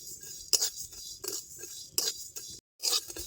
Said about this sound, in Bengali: এই সমস্ত মশলা এখন সুন্দর করে বাজে নেব